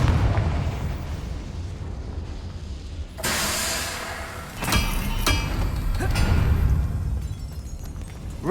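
A fiery Confringo spell detonates in a video game with a sudden bright burst and hissing blast, followed by a second crackling explosion and rumbling debris over a constant game soundscape.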